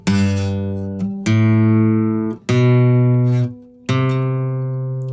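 Four sustained, bright instrument notes played one after another, each struck sharply and ringing steadily, loud and close.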